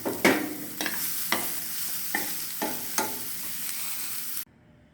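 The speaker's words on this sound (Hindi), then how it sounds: "इसे अच्छी तरह से मैश कर देंगे और ये धनिया डाल देंगे।" Boiled potatoes with spices are mashed in a pan, about eight firm rhythmic thuds and scrapes at close range, with no talking, cutting off abruptly at the end.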